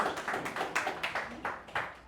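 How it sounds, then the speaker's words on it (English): Brief audience clapping after an artist's keynote talk, a short run of distinct, fairly quick claps from a small crowd, moderately faint in the room. "Can we give Nina another big round of applause?"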